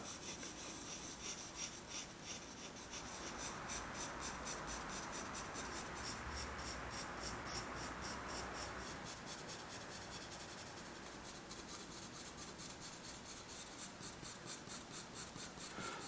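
Graphite pencil shading across drawing paper while sketching a horse, a steady scratchy rubbing that runs on and on, close and fairly quiet, with no voices.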